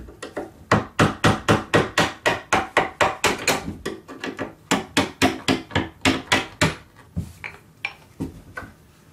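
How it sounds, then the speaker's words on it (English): A hammer taps a screwdriver under a door hinge pin in a steady run of sharp, ringing strikes, pausing briefly, then continuing in a slower, uneven series of close blows. "Take your screwdriver and your hammer, get under the hinge and lift it up."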